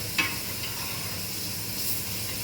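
Steak fries in a pan, basted with butter, garlic and rosemary, giving a brief steady sizzle with a single light tap of a spoon at the start, close and even.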